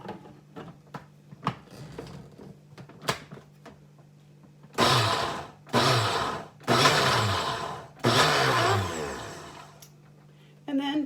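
An electric blender whirs through basil pesto with salt and pepper in four loud pulsed bursts. Before them come scattered clicks and a voice, and a short pause falls between each run of the motor.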